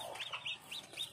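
Young black chicks in a farm pen in Phetchabun keep peeping for the mother hen, four or five sharp high chirps in quick succession, close and clear.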